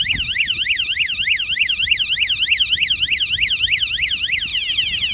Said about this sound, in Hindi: अभी हॉर्न की आवाज़ सुनना, यहाँ सुनाता हूँ